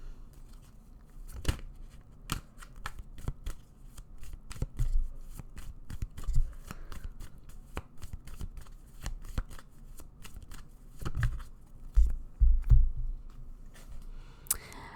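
Tarot cards shuffled by hand at close range, a steady run of crisp riffling flicks and soft slaps repeating throughout, with occasional louder taps near the end and no talking.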